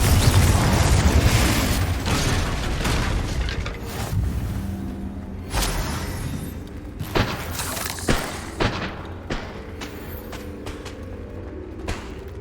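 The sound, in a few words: spell casting explosions in video game Hogwarts Legacy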